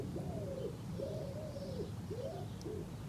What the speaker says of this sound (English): Can you see that pigeon on top of that lamp post?